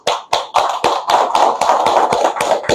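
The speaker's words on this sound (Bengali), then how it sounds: "ডক্টর লিমের জন্য আমরা একটা করতালি দিই।" A small audience claps in unison, a rhythmic round of a dozen or so sharp, close hand claps that quickens and blends into steady applause.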